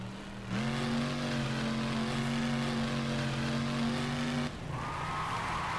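A monster truck called Snakebite in BeamNG.drive with a steady high engine drone under load, holding a sustained whine for about four seconds before the pitch drops as it shifts or eases off, then a lighter squealing tone follows.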